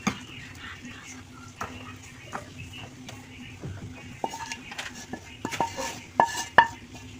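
Metal pots and pans clink and scrape close by as a finished egg bhuna is lifted off the stove, with scattered sharp knocks and rattles over a low kitchen background.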